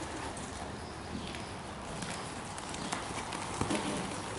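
A horse walks on firm ground at a riding clinic, its hooves clip-clopping faintly in an irregular rhythm under a noisy outdoor background, with occasional bird calls and no clear talk.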